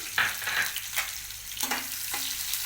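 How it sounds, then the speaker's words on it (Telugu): Onion pieces sizzling in a pan while frying for a jowar flour uttapam: a close, steady crackle with a few short stirring scrapes, no voices. "ఇది కొంచెం వేగిన తర్వాత ఈ ఉల్లిపాయ ముక్కలు వేసుకోవాలి"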